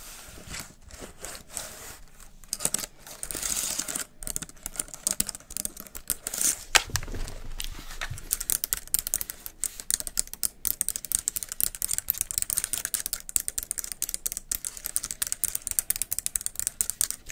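Fingers type on the keys of a tiny laptop in a quiet, close-up setting, producing dense, rapid clicking that speeds up into a continuous patter over nearly twenty seconds, with no voice.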